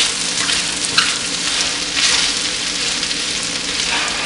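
Beef stroganoff with parsley sizzles loudly in a pan and is stirred, a steady dense crackle with scraping stir strokes throughout and no voices.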